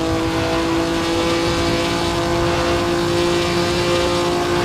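An F3 open-wheel race car in Assetto Corsa held near the top of its rev range in third gear on the Sudschleife: a loud, steady, high-pitched engine whine that stays constant throughout with no gaps and no talking.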